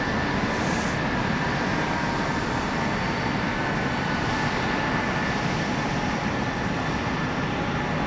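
A regional jet, an Embraer E175 or CRJ 700, roars loud and steady at Raleigh-Durham International Airport, a broad constant engine rumble with a high turbine whine, filling the whole stretch without talk.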